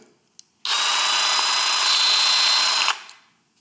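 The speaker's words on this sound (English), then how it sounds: "We're going to install this right here in our Jigsaw. I just want to see what this feels like. Just first power on." A Ryobi cordless jigsaw switched on at speed setting 2 whirs loudly and evenly for just over two seconds after a brief click, then winds down to quiet.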